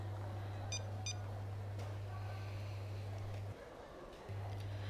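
A phone call fails to connect: two short electronic beeps sound, then a steady low tone runs, briefly breaks off and resumes, all faint and thin.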